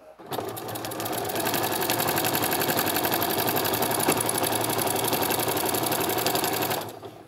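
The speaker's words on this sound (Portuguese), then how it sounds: "E sigo costurando, lá da beiradinha. Vou dando uma leve esticadinha na faixa do debrum." A sewing machine runs steadily and loudly for about six seconds, stitching a binding strip along the edge of a Christmas sewing project. It hums with a fast, even rattle and then stops. There is no talk.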